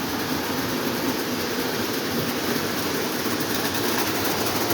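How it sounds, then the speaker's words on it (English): Lionel model trains, including a Santa Fe diesel with dual motors pulling passenger cars plus a 1950 trolley car, make a steady, continuous rumbling whir on the track, with no voices. "Santa Fe diesel engine with dual motors pulling New Haven Santa Fe passenger cars."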